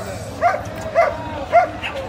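At an outdoor Friday dog market, a dog lets out three short, sharp yipping barks about half a second apart, close by, with murmuring voices in the background.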